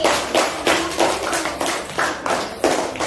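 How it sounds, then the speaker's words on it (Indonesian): Students in a classroom clap in a loose, rhythmic burst of about eight or nine beats, close by and fairly loud, with no talking over it. "Tepuk tangan untuk Alfandi"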